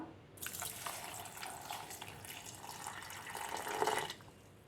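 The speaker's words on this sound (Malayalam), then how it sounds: "ഇനി ജ്യൂസിന് ആവശ്യമായ വെള്ളം കൂടി ഒഴിച്ചു കൊടുക്കാം" Water pours into mango juice in a steady, splashing stream for about four seconds, fairly quiet and close, then stops abruptly.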